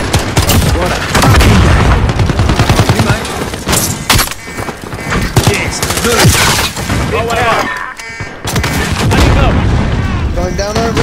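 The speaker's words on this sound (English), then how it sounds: "It's Getting shot from behind" Dense video game gunfire, rapid bursts and heavy booms from a shooter match, loud and continuous, with players talking over the shots.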